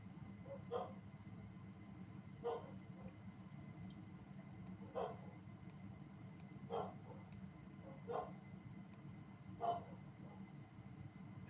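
Several short dog barks spaced a couple of seconds apart, faint and somewhat distant over a steady low hum.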